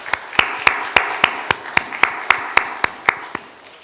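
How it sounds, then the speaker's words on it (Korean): A church congregation giving a short round of thanks: about fourteen sharp, evenly spaced claps, loud and close, in a single steady rhythm with no voices. "이들을 위해서 감사의 박수를 한번 하겠습니다."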